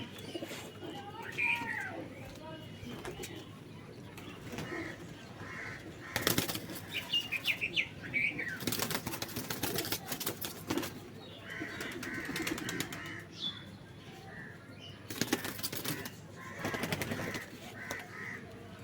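Pigeons flap their wings in bursts, the loud fluttering near and repeated, with soft cooing and occasional bird calls in between.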